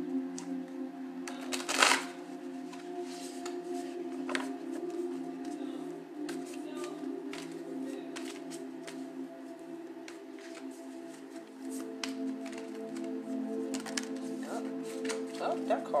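Oracle cards shuffled by hand in soft, papery riffles and slides, with one brief louder flutter, running quietly beneath a person talking.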